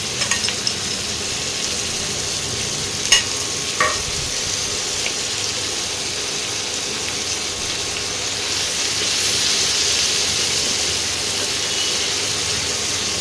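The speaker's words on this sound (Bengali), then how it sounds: "পেঁয়াজগুলো একটু লাল লাল করে ভেজে নেব।" Thinly sliced onions frying in oil until reddish, a steady hissing sizzle throughout with a few brief clinks of stirring, growing slightly louder toward the end.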